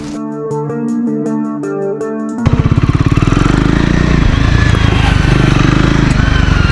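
Triumph Scrambler 400 XC single-cylinder motorcycle engine while riding, a loud rapid thumping exhaust beat that kicks in abruptly after a few seconds of music and drones steadily with wind rush.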